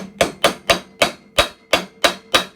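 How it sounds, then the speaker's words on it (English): A hammer gently taps a 12-inch bandsaw bearing into place through a hardwood block, giving eight close, crisp knocks at an even, steady pace with no talking. "for refitting these bearings, I'm just going to be using some hardwood and hammers"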